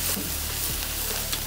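Food fries in lard in a pan, a steady close sizzle and crackle with faint stirring noises and no voices.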